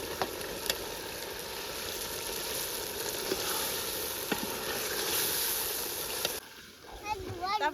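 Boiled vegetables go into a gravy frying in a pan, with a loud, continuous sizzle and spatter that cuts off sharply near the end, where a voice is briefly heard.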